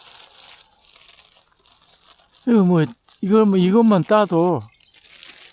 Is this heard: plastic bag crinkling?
yes